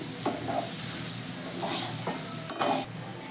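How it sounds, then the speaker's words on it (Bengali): Fried semolina being stirred into sautéed vegetables in a pan for savory suji upma, with a steady close sizzle and a few scraping spoon strokes. "সবজিগুলোর সাথে সুজিটাকে ভালো করে মিশিয়ে নেব"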